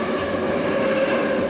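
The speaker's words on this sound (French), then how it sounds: "Juste derrière cette porte, circule le métro moscovite." Moscow metro trains passing underground just behind a door, a loud, constant rumbling roar of rolling carriages with faint rhythmic wheel clatter.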